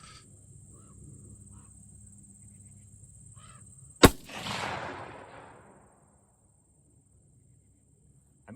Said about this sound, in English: I'm gonna shoot 3 more rounds.